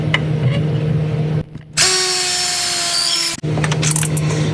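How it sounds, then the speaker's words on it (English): A power drill drills a hole in a Polaris RZR Pro R during a turbo kit install. It whines at a steady, high pitch for about a second and a half between stretches of grinding and scraping, close and loud. "drill your hole in it instead of having to maybe use a right angle drill"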